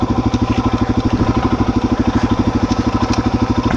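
A dual sport motorcycle idles up close, its engine pulsing in a fast, even, loping rhythm with a steady mechanical clatter and no speech over it.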